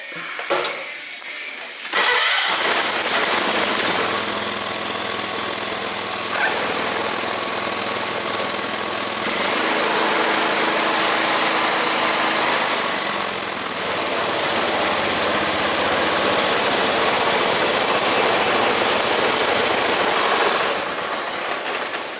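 A small lawn mower engine cranks and catches, then runs steadily with the throttle raised, a loud buzzing rattle held for about twenty seconds before cutting off near the end.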